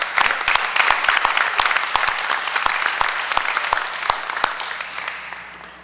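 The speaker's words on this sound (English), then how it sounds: "Let's give Jaden a big round of applause this evening" Applause at a Hoboken Board of Education meeting for a student award, a modest room of people clapping with distinct individual claps audible, gradually thinning and fading out near the end.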